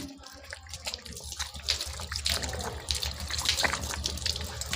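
Water runs and splashes from a tap as hands are washed for wudu ablution, a steady gushing stream with intermittent splashes, moderately loud and without talk.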